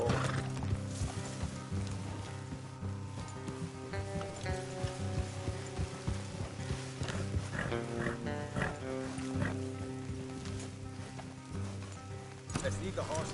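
Horses in the video game Red Dead Redemption 2 clop along a road with hoof beats and snorts, heard under steady character dialogue and a background music bed.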